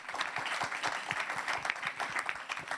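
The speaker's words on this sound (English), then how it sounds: "Let's give our panelists a round of applause for their thoughtful inputs today" An audience at a conference panel session gives steady, dense applause, with many hands clapping at once for a few seconds.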